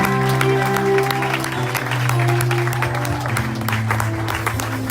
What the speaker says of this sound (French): Acclame très fort le Seigneur.